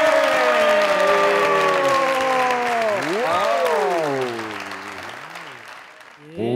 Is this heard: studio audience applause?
yes